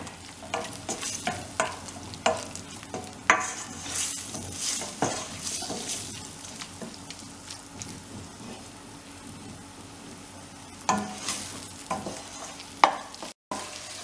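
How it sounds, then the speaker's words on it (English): Curry ingredients sizzling and crackling in grapeseed oil in a hot pan, with scattered pops and occasional stirring scrapes, steady and close, no talking. "So we're going to fry that a little bit"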